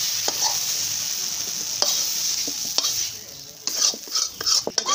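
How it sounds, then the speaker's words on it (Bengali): Pumpkin leaves frying in oil in a pan in a village kitchen, a steady close sizzle broken by several sharp clinks and scrapes of a utensil stirring against the pan. "এটার মধ্যে আবার মিষ্টি কুমড়ো পাতা ভেজে নেব।"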